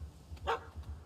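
A dog in the video game The Witcher 3 gives a single sharp bark over a low rumbling game backdrop.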